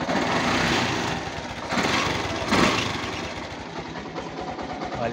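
A Yamaha YTX motorcycle engine runs steadily after a regulator replacement that fixed an overcharge fault, its close, even idle thrumming at an uneven beat with slight swells in level throughout.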